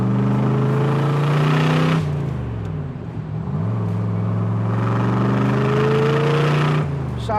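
A 1967 Corvette convertible V8 rumbling through side exhaust while driving, a loud, deep engine drone that dips as the revs drop and then climbs again, with no talking.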